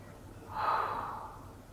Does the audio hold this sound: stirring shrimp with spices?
no